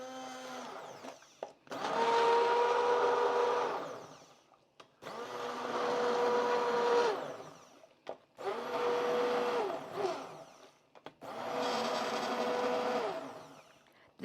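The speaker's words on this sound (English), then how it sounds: "I want to put this in before I emulsify. It's going to make a noise" A hand blender puréeing sweet potato peanut bisque: four loud, steady whirring bursts of a few seconds each, separated by short pauses, close by and with no talk.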